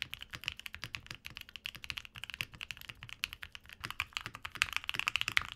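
Close, rhythmic typing on an Owlabs Vento 80 keyboard fitted with plate foam, keystrokes sounding deeper, with rapid bursts toward the end.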